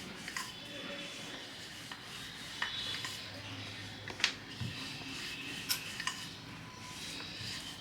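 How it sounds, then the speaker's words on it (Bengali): A rolling pin works onion paratha dough with a light hand, giving a faint, continuous rubbing sound broken by occasional soft taps, close by and quiet. "খুব হালকা হাতে এটাকে এইভাবে বেলতে হবে।"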